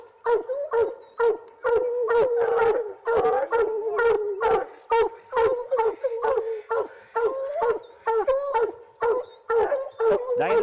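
Several coon hunting dogs bay at a tree, a loud, close chorus of rapid, overlapping howling barks and yips repeating almost without pause, with no talk.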